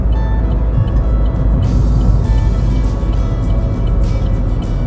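A manual car engine runs steadily through a U-turn during a class 1 road driving test, a loud, constant low rumble with broadband road and cabin noise and no clear rev changes.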